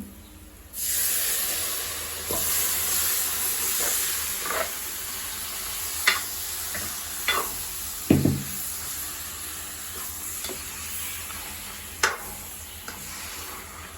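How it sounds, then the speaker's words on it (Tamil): Chicken pieces sauté in a hot pan for Chettinad chicken curry with a steady close hiss and sizzle, broken by occasional sharp pops and stirring clicks, with no one speaking. "நாங்கள் இறைச்சி இருக்கா வதங்க விடுவோம் கொஞ்ச நேரம்."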